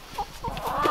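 A few short, close clucks from chickens, quick and uneven, over a faint background.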